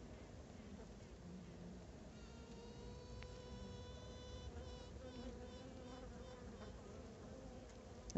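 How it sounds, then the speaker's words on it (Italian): A newly emerged honey bee queen pipes inside the hive, a series of sustained tonal toots and quacking notes rising from the second second onward over the continuous buzzing drone of many worker bees. "Questo è il canto della regina."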